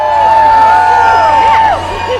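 Crowd at a holiday train debut event at St. Paul Union Depot, cheering loudly and steadily, with bright whistle-like tones and shouts over a dense roar that eases near the end.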